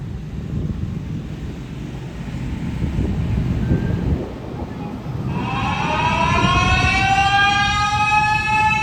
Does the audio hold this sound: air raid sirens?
yes